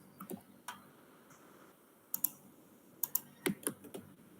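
Computer keyboard keys pressed to take a screenshot, a few soft isolated taps followed by a quick cluster of sharper clicks, close and quiet with no talking.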